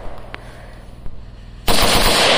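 A gun dumping its whole magazine at a shooting range: after a quiet stretch with a few distant shots, a loud, continuous burst of rapid gunfire erupts close by and carries to the end.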